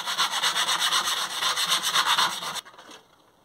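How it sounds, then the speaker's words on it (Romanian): A hand file rasps steadily back and forth on a freshly cut metal piece, deburring it, in a loud close rhythmic grind of about a dozen strokes that stops abruptly near the end. "După ce am tăiat-o, o pilesc puțin."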